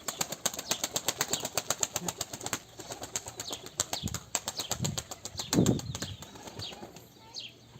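Kayseri tumbler pigeons beat their wings in a quick, rhythmic burst of flapping close by, then fall quieter, with a few scattered rustles and soft thumps following.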